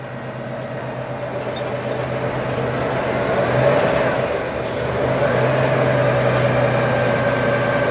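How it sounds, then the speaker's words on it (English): Under load, a rubbish truck's engine drones loud and steady as its four sets of dual drive tyres spin without traction, the roar swelling slightly midway, with no talk. "I'm just sitting here with all 4 drive tyres, all 4 sets of duals, just spinning."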